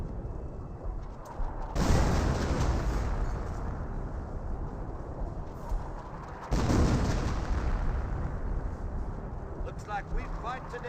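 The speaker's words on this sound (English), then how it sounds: "Also raining a barrage over here." Artillery barrage in the World War II strategy game Company of Heroes: a dense, sustained roar of distant shelling swells sharply twice, with rumbling blasts continuing between the surges.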